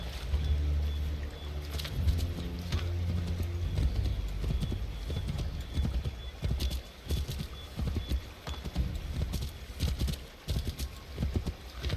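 Horse hooves from the video game Assassin's Creed III Remastered pound in a steady, loud gallop that runs without a break for the full stretch, with faint scattered background game sounds.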